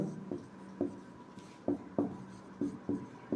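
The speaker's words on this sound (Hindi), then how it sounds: "ये वाली बात हम लोग लिखने वाले हैं। ठीक है, लिखेंगे" Pen writing notes on paper, a series of short scratchy strokes with small gaps between them, close and fairly quiet, no talking.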